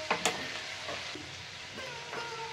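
Vegetables frying in a pan with salt, turmeric, chilli powder and sambar masala, a soft steady sizzle with a few sharp clinks and scraping stirs near the start, no voices.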